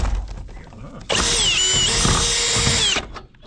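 A power drill in low gear bores a 1/2 inch hole to hang a guide cable, starting abruptly as one steady, loud whine that runs about two seconds with slight pitch shifts, then stops.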